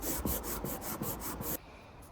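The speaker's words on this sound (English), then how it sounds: "So after quite a bit of sanding" Rhythmic back-and-forth rasping of sandpaper on a wooden rifle stock, about eight close strokes in a steady rhythm, then it stops.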